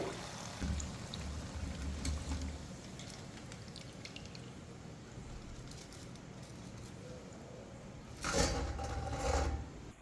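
Rice murukku fries in hot oil, a steady close sputtering and bubbling hiss that swells briefly near the end.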